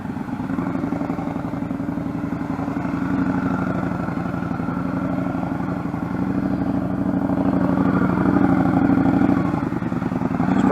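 A motorcycle with a student rider leaning it into a turn, its mid-pitched engine droning steadily and close throughout, rising slightly in loudness toward the end, with no talking.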